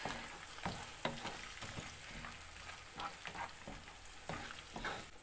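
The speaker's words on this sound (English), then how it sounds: "Cook the paste till the raw smell disappears, and the ridge gourd has to cook as well." Ground paste cooks with ridge gourd in a pan over medium flame, a soft frying sizzle punctuated by repeated spatula stirs and scrapes, close and fairly quiet.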